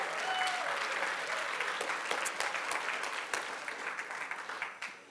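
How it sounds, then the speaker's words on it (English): A church congregation bursts into sustained applause that fills the room, dense and steady before thinning toward the end, with some cheering mixed in. "We applaud. We shout."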